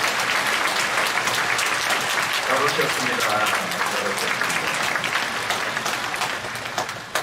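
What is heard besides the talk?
church congregation applause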